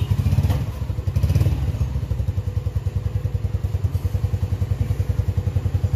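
A motorcycle engine putters close by with a steady, rapid low thumping, with a few clattering knocks near the start and no voices over it.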